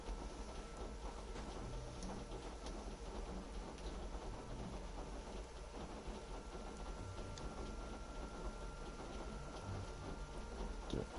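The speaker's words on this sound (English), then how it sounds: "It is raining." Continuous, fairly quiet rain patter with faint low rumbling beneath it in the video game Genshin Impact, steady throughout with no voices.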